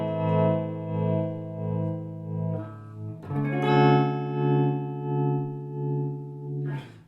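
Electric guitar through a Marshall Vibratrem pedal at slow tremolo speed: sustained chords whose volume swells and dips in a slow regular pulse, with a fresh strum midway, close and clear with no talking.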